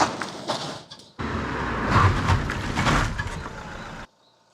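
A Fiat Panda 4x4 on standard tyres brakes to a stop from 50 km/h, with a broad rushing road and tyre noise that swells and then cuts off, heard from nearby.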